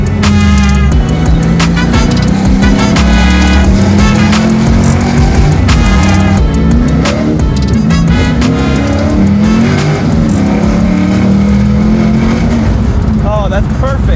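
A garage-built 1968 Chevrolet Camaro muscle car drives hard, its loud engine note rising and falling through gear changes with a constant rumbling drone throughout.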